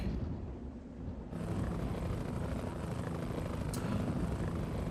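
A video game helicopter's steady rotor and engine drone fills the clip, thickening abruptly after a second and continuing as a loud, unbroken whir.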